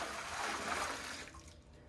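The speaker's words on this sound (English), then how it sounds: "Then we're going to tip the chocolate water away." Chocolate-tinted water is tipped away into a sink, a short hissing, rushing pour that is fairly quiet and close, fading out toward the end with no talking over it.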